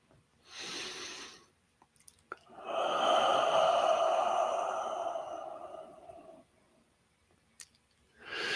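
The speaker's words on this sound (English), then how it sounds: "take a deep breath" A slow deep breath during guided morning prayer: a brief inhale, then a long, audible exhale lasting several seconds, close and soft in quiet surroundings, followed by another breath starting at the end.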